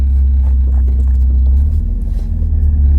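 A 1983 Porsche 924 engine drones steadily from inside the car while driving, a constant low rumble with a slight swell partway through and no talk over it.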